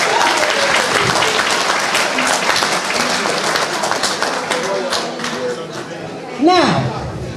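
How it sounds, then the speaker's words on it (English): An audience at a community award ceremony breaks into sustained applause that fills the whole stretch, with a short burst of a voice or whistle near the end. "I just wanted us to get them a hand clap before they go home."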